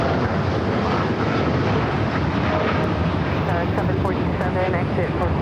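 An Air China Freight heavy cargo jet taking off from a runway at LAX, a loud continuous broadband engine roar with wind rumble, steady and close, with faint radio chatter in the background.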